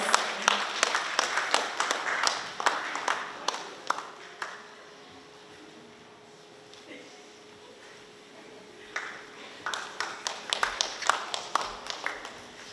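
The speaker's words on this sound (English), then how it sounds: "give them another big round of applause." Guests at a graduation ceremony in Pohnpei clap in scattered, sharp bursts that fade to near silence midway, then pick up again toward the end, moderately close.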